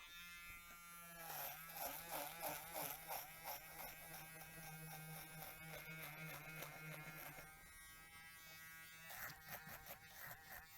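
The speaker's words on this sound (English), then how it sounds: "Then I have this dreadlock extension that I'm just going to simply cut through" Hair trimmer buzzing steadily as it cuts through a dreadlock extension of coarse hair, a close electric whine with rhythmic fluctuations as the blades chew through, pausing and resuming near the end.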